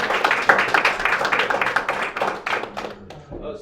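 An audience at a talk breaks into a round of applause, a loud burst of many clapping hands that thins out and fades toward the end.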